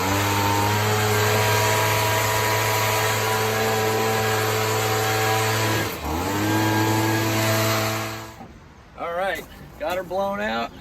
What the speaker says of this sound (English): I actually got my little blower here